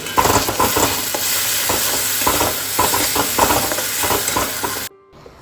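Boiled chickpeas and potato being stirred and fried in a pan, with a steady loud sizzle and scraping stirs for about five seconds before it cuts off abruptly.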